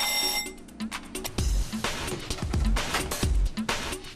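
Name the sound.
alarm signalling work time aboard a fishing boat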